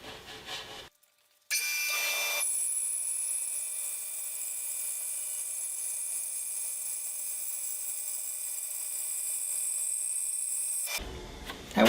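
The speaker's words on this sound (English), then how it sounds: "I'm ready to cut my 12-inch tall piece of poplar, and I am cutting this at 15 inches per minute since it is taller." An Accu-Slice automated saw cuts a 12-inch tall poplar board at a slow feed of 15 inches per minute, a loud, steady, even cutting roar lasting about nine seconds, with brief handling noises before and after.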